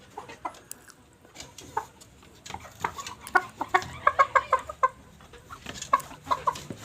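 Several young laying hens cluck in short, close bursts, with a quicker run of sharp calls in the middle and a few more near the end, all without speech.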